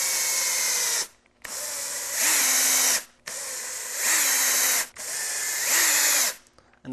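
A power drill drives Kold Kutter ice racing screws into a tire in four close, loud bursts, each whirring for over a second, rising in pitch as the screw bites, then stopping with short gaps between.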